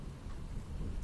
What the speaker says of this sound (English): But you can probably hear the thunder in the background.